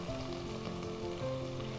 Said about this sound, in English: This gives you an idea of just how much you do actually need to brown the onions